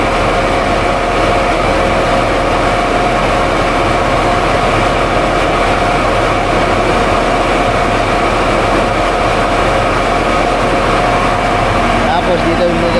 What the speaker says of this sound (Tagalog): Ito yung mga makinang ginagamit nila paggiling.